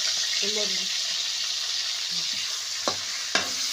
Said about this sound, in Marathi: आता तेलामध्ये हलून घ्यायचं आहे त्यांना